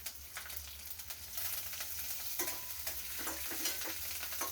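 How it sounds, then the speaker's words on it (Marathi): Peanuts and cumin stir-fry in a hot pan, a steady crackling sizzle with occasional scraping and stirring taps, fairly close and continuous, with no talking. "आता याच्यामध्ये शेंगदाणे घालून परतून छान हलवून घ्यायचं।"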